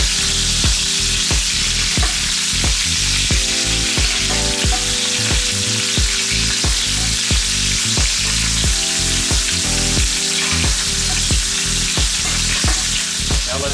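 A NY strip steak sears in a hot pan with garlic while being basted, giving a loud, constant close sizzle broken by rapid repeated spoon clinks and scrapes.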